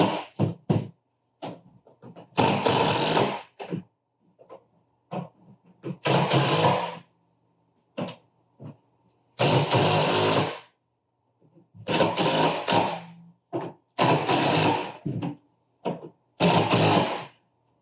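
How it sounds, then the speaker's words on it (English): A power driver runs 3/8 fasteners into a chaise lounge frame in repeated short bursts of loud whirring, each about a second long with pauses and small handling clicks between them. "I'm going to start with my 3/8 driver. I'm going to go through first to help tighten this sling up."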